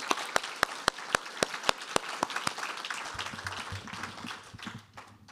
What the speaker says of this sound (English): Can we have a little bit more applause for Brenda, please?